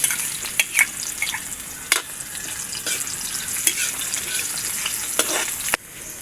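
Garlic and onion sauté in a hot pan with a steady, bright sizzle, while a utensil stirring nearby adds scattered clicks and scrapes. The sound stays close and fairly loud, and there is no talking.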